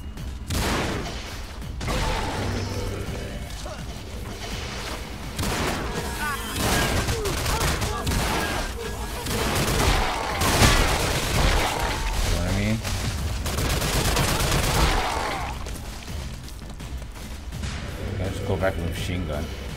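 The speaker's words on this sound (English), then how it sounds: "Machine gun." Machine gun fire in the Crash Commando video game: dense, continuous bursts of automatic gunfire mixed with explosions and crashes, loud and sustained throughout, with someone talking over the battle.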